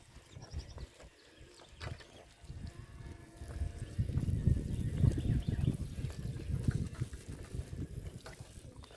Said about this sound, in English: now I'm going to water them